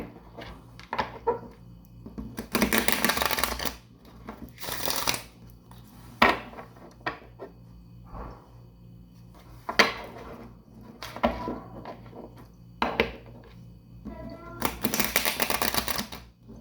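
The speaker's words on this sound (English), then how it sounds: "Alright, so let's get into it with your shamanic healing oracle cards. Get you shuffled up." Shamanic healing oracle cards are shuffled by hand in several bursts of close riffling and flapping, with soft handling noises and pauses in between.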